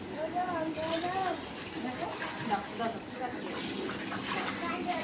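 Hot water runs steadily as a child's bath is filled, a continuous watery rush under nearby voices and chatter.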